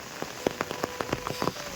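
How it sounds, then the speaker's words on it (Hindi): Rain falls in a village in Arunachal Pradesh, with distinct drops tapping a nearby surface in an irregular patter over a soft background hiss. "देखो बारिश"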